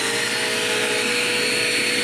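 A Dirt Devil Quick Power vacuum cleaner runs continuously, a loud, steady motor whine with a high airy rush and no speech.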